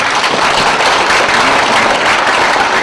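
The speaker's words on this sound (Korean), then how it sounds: "우리 뜨거운 박수 한번 해드리겠습니다" Dense, steady applause from an audience at an award ceremony, the 56th Bohwa Prize presentation, fills the hall loudly and evenly for its whole length with no talk over it.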